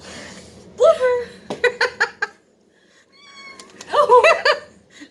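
A cat meows and yowls loudly close by, with drawn-out wailing calls at the start and end and a run of quick sharp bursts in between, with laughter and voices mixed in.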